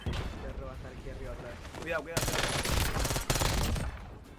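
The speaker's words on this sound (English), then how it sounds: "I think these guys are fighting up top right now, from what I can tell from the sounds of those gunshots." Bursts of submachine-gun fire in a Warzone match using Black Ops 6 SMGs, dense and fairly loud in the second half after a quieter stretch where faint voices murmur.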